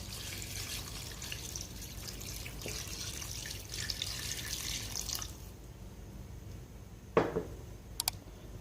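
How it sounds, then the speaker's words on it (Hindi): Water flows steadily into a cooking pot for mutton korma, a continuous splashing pour that stops partway, followed by a sharp metallic clink and a couple of small knocks. "इसके अंदर शामिल कर देते हैं पानी"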